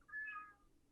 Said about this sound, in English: My cat won't shut up.